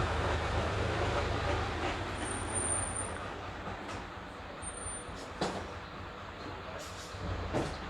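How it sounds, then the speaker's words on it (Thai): A garbage truck rumbles past on a street, a steady low engine drone with hissing and clanking that stays at a fairly constant level throughout, moderately distant. "พอดีรถขยะมา"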